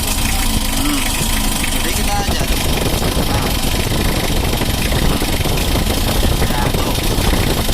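A tuned engine fitted with a timing ball gets a light blip of throttle, running close and rough with a crackly, knocking idle while someone talks over it.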